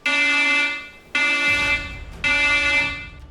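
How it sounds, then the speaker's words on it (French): An alarm in a military bunker blares three loud, harsh buzzing tones, each lasting about a second with short gaps between them. "L'alarme rouge déchire le silence du bunker Serpukhov 15."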